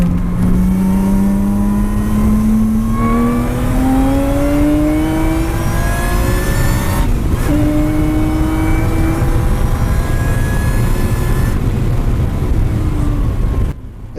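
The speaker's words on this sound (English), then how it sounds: "that supercharger never gets boring. It was just so awesome to listen to each and every lap." A supercharged Lotus Exige, around 500 bhp, lapping Cadwell Park, its engine loud and close with a rising supercharger whine that climbs through the gears, briefly drops on a shift, then pulls again.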